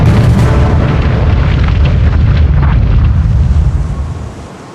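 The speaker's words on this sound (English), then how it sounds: "A single torpedo strikes the rear of the ship." A torpedo explodes against the stern of the battleship Bismarck: a massive, loud, deep boom with a sustained rumbling roar that fills the space, then slowly fades away.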